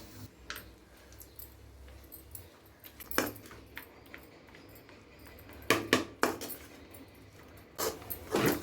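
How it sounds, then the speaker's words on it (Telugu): Ladle scraping and clinking against a pan while vegetable lemon rice is stirred, scattered metallic knocks and scrapes at irregular intervals over a soft background, louder clusters toward the end. "రైస్ మొత్తం ఇందులో వేసేసుకున్న తర్వాత గరిటెతోటి అయితే మొత్తం బాగా కలిపేసుకోవాలి"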